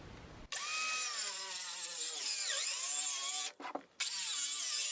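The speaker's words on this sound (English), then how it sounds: "now I'm just using the saw to freehand this cut" A power saw cuts freehand through wooden supports for a shed ramp, whining loudly and steadily close by, with a brief dip before it runs on to the end.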